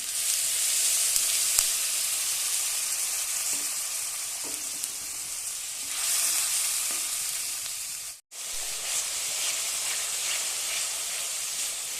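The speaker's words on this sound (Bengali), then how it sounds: "মশলাটা কষিয়ে নেওয়া হয়ে গেছে" Spice paste of salt, turmeric, Kashmiri chilli powder, cumin-coriander powder and garam masala with water fries in oil for a pabda fish curry, giving a close, steady sizzle and hiss that drops out briefly partway through. No one speaks.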